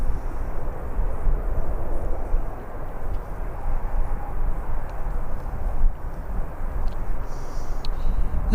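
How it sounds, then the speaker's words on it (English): Boeing 777 aircraft at Birmingham Airport: a steady, broad jet engine roar, loud and fairly close, holding level throughout without clear rise or fade. "Always nice to see a 777 at Birmingham Airport."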